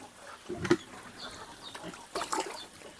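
Pigs in a bamboo-fenced piggery of fourteen animals give a few short grunts, loudest around one burst, against low farmyard background noise with no talk.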